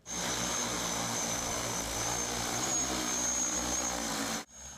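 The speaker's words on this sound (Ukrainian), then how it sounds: "Коли все готово, дрон нарешті запускають у політ." A heavy-lift drone carrying a magnetometer takes off with a loud, steady propeller buzz and a thin high whine that holds throughout, then cuts off abruptly near the end, with no voices.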